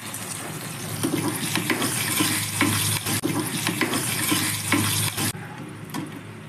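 Mustard seeds, urad dal, chana dal and curry leaves sizzle in hot oil for an okra gravy, giving a steady, loud, close crackling hiss with scattered pops throughout and no voices.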